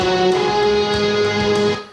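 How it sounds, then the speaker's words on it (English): Recorded electric guitar riff played back from a multitrack through speakers behind the camera, sustained chordal tones with a steady pitched drone, fairly loud and continuous for about two seconds before fading. "Here's the riff from multitrack. This is the actual recorded part."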